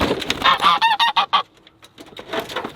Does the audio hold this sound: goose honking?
yes